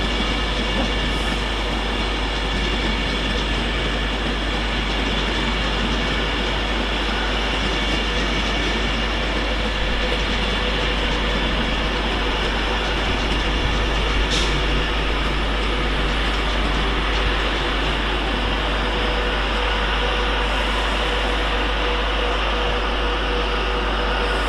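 Passenger train on the Liverpool Lime Street to London Euston route passing through Stafford station on the West Coast Main Line, a steady loud rumble and rolling rail noise sustained throughout with faint clicks over the joints.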